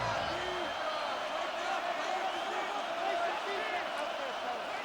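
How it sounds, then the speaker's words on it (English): Madden 26 American football video game stadium crowd, a dense, steady roar of cheering fans at third down between the Los Angeles Rams and Denver Broncos, continuous throughout. "This crowd into it now as we get to third down."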